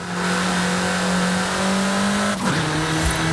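The VUL 05RR track-focused supercar in Forza Horizon 5 gives a steady, loud engine drone that sweeps sharply near the end as it shifts and revs, with a faint tire squeal.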